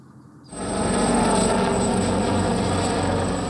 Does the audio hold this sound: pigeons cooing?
no